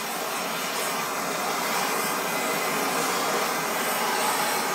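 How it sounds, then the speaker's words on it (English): A blowtorch flame roars steadily and loudly, close by and without a break, while it scorches a wooden handle. "depending on where you hold the torch, will give you a different heat"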